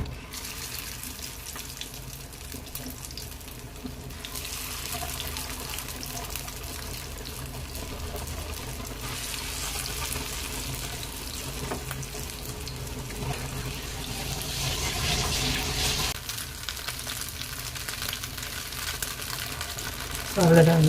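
Chicken kebabs frying in a pan, a steady broadband sizzle holding throughout at moderate loudness with a slight swell near the end, no talk over it.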